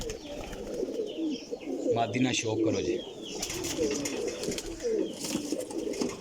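Teddy pigeons coo softly in low, throaty bursts, heard under someone talking nearby, with scattered chirps and rustling in the background.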